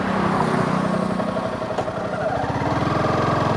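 A Honda CBR 250 motorcycle engine runs steadily nearby, giving a loud, smooth, even hum with a low throbbing pulse that holds constant throughout, with no speech.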